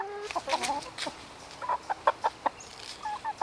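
A rooster clucks repeatedly nearby in short, sharp bursts, with a rhythmic run of clucks in the middle and a few more toward the end.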